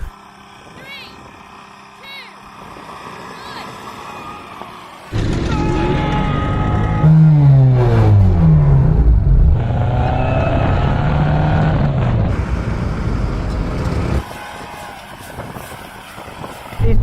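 A motor tricycle, a Mr. Bean-style three-wheeler, accelerating in a drag race, its small engine jumping from quiet idle to a loud, straining rising whine for several seconds before easing off, with people talking over it.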